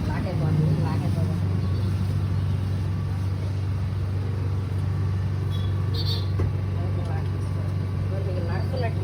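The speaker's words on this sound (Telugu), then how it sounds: "మీకు జనరేటర్ నడుస్తున్నట్టు సౌండ్ కూడా వినిపిస్తుంది." A Honda EU70is portable generator runs with a steady, loud engine hum and low rumble that continues unbroken throughout.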